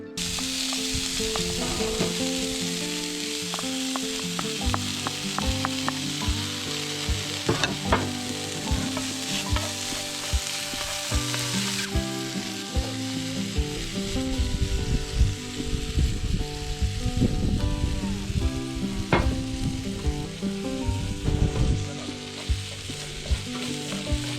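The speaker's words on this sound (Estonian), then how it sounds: "Praeme siis pannil peekoni ja sibula läbi." Bacon and onion fry in a pan with a steady, loud sizzle throughout, broken by the scrape and clatter of stirring, with no talking.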